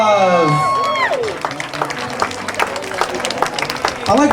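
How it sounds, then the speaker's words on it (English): Wedding guests break into a round of applause and cheering, a dense crowd clapping that builds after a spoken announcement and carries on under a voice. "Big round of applause, everyone."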